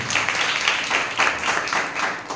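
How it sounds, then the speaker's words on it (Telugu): A church congregation claps together in a short burst of rhythmic applause, several sharp pulses a fraction of a second apart, moderately loud and without talk. "చప్పట్లు కూడా దేవునికి."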